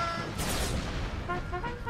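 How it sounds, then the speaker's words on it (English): Artillery fire in a Civil War battle video game: a burst of dense, rumbling booms and crackling reports close by, fading into a lighter scatter of distant shots. "we're walking into our own artillery fire here"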